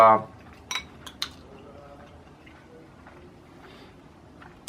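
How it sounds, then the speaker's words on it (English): Faint metallic clinks of a spoon against teeth while eating meatballs with fried rice, a few separate taps close to the mic, with quiet mouth sounds and a soft background hum. "The sound of the spoon with your teeth."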